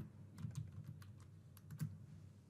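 Keys clack on a computer keyboard as a web address is typed, a quick irregular run of close, fairly quiet keystrokes with no talking.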